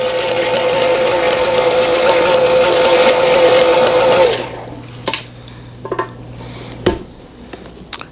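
An electric hand mixer whirs steadily through box cake batter in a bowl for several seconds, then switches off, followed by scattered clinks and knocks of the beaters and bowl.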